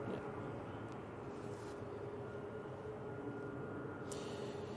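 A Turkish Airlines Airbus A321neo approaching Manchester Airport makes a distant, steady jet roar, faint and continuous under light wind.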